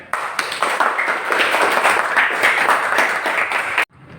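A classroom audience in a teacher-training lesson claps together in a dense, steady burst of applause lasting nearly four seconds, then it stops abruptly.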